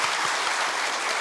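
A church congregation claps together during a Sunday worship service, a brief burst of dense, steady applause filling the room.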